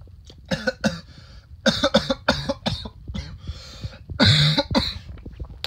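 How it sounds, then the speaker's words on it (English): A man coughs repeatedly in close, loud, rough bursts, a run of hacking coughs followed by a longer wheezing, throat-clearing fit, with no talk. "please excuse me for my coughing."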